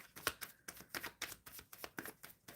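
Tarot cards being shuffled by hand, close and quiet: a quick run of crisp riffling and slapping bursts in an uneven rhythm, with no voices.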